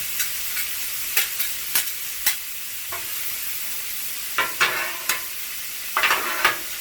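Cheesesteak meat sizzles on a hot griddle while a metal spatula scrapes and clacks against the surface in quick irregular strokes, a steady frying hiss running beneath the sharp close-up taps.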